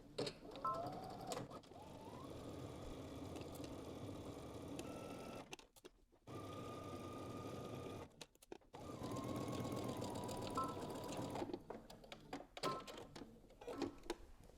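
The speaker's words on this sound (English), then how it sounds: "I'm going to start stitching at the dot, working my way up using 5/8 of an inch seam allowance" A home sewing machine runs steady bursts of stitching along the center back seam of a dress, with a couple of short pauses between runs, close and even in pace.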